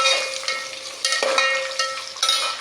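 Leftover sambar frying in a pan, a steady close sizzle with bursts of bubbling and spattering, plus a faint clink of a utensil against the pan.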